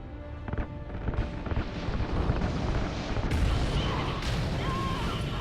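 Rocket RCS fuel lines igniting in Call of Duty Ghosts, a dense roaring rumble of booms and blasts rising into a loud, sustained wash of fiery noise.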